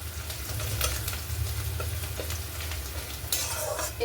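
Bay leaves dropped into hot oil for a goat meat and bottle gourd curry, a steady close sizzle with stirring scrapes and occasional utensil clicks, no talk.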